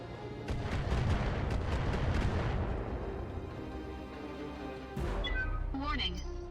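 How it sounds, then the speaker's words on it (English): Missiles slam into a mech in the BattleTech video game, a dense barrage of loud, rumbling booms filling the opening seconds and then fading, with a fresh impact burst near the end, some speech-like game voice in the mix. "Oh, it's got missiles"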